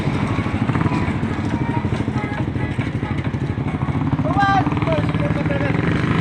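A motorcycle engine runs close by in a pulsing, steady putter at a pre-dawn roadside coffee stop, with people talking over it.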